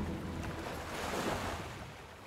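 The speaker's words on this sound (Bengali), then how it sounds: "ঝড় চলল বেশ খানিকক্ষণ।" Stormy sea with waves surging and rushing in a steady broadband roar, wind-like and continuous, swelling slightly in the middle; no voices.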